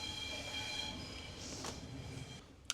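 An Italian passenger train rolls slowly while being loaded onto a ferry, a faint low rumble of rail cars with brief squeals of wheels on track and a sharp clank near the end.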